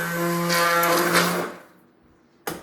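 Immersion blender pureeing hot caldo verde soup, a loud steady motor drone that cuts off after about a second and a half, followed by quiet and a short knock.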